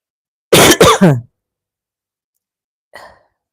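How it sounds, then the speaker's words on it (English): A quick cluster of close, harsh coughs in a row, followed after a pause by a softer, fainter cough. "Oh, I have this cough also."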